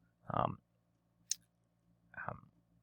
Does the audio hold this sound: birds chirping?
no